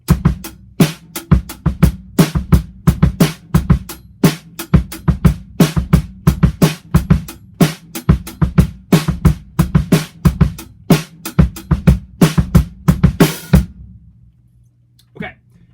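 A drum kit plays a beat in an odd time signature, five counts per bar, with steady kick, snare and cymbal hits in a tight repeating groove before stopping abruptly near the end.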